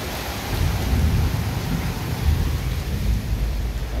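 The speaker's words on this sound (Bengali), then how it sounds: "আর বাইরে মুষলধারে বৃষ্টি হচ্ছে।" Heavy downpour with thunder outside during a storm, a loud, dense roar of rain and deep rolling rumble sustained through the whole stretch, with no voices.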